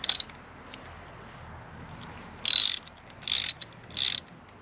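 Ratcheting on the spark plugs of a 2004 Saab 9-5 2.3 engine, three short bursts of close metallic clicking late in the clip after a brief click at the start, over a quiet background.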